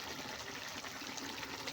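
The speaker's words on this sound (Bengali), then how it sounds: "অল্প একটু পানি দিয়ে" A little water poured into a simmering vegetable and fish curry in a home kitchen, a soft, faint steady trickle and splash heard alone.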